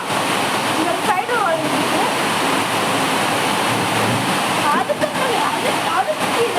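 Water rushing steadily in a vegetable washing machine, a loud continuous hiss and splash that runs throughout, with brief gurgles and faint speech at moments.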